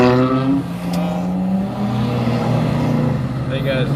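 A loud street car drives past close by at night, its engine revving and roaring with a rising then falling sweep, under steady talk throughout.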